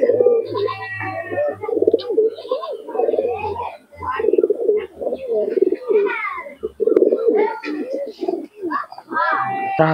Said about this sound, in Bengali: মাদি কবুতরটা শখ করে দেখাচ্ছি।